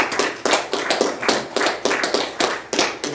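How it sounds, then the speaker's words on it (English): A church congregation claps together in a brisk, uneven rhythm, many hands slapping at once with soft thuds, no voices over it. "Give the Lord a hand clap."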